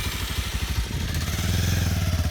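A stunt motorcycle at a bike stunt academy, its engine running with a rough, pulsing, throaty rhythm and rising revs, close and continuous over a couple of seconds.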